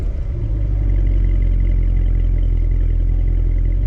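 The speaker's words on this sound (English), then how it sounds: "here's the exhaust note." Deep, steady exhaust rumble from a 2017 Cadillac CTS-V, a loud, continuous low-pitched drone that holds constant for several seconds with no speech over it.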